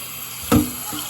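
Tap water splashes into a sink while rice is rinsed for a Cajun oxtail meal, heard as one brief, faint gush amid quiet room tone with no talking.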